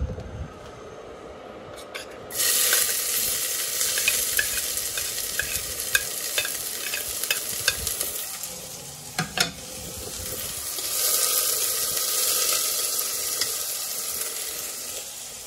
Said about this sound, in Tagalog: Mainit na yung mantika. Ilagay na natin itong sibuyas.